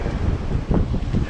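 Strong wind buffets the microphone on a Western Australian beach during mulloway fishing, a steady loud roar with gusty swells and surf-like rumble throughout, no talking.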